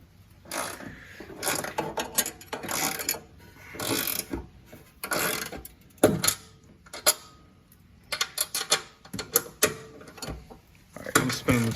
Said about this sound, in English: Tightening this bolt down.